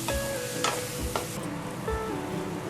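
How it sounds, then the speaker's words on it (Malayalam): Chopped onions and green chillies sizzle steadily in a pan for Kannur-style chicken kalmas, with a few soft stirring scrapes over a constant frying hiss and no voices. "ഇപ്പോൾ ഉള്ളി ജസ്റ്റ് ഒന്ന് വഴറ്റിയെടുത്തിട്ടുണ്ട്"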